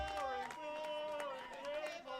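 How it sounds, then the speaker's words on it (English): Darts crowd at the 2023 CDC Continental Cup chanting in unison, a sustained, loud wall of massed voices with rising and falling sung tones and occasional claps throughout. "They're doing all the different chants now."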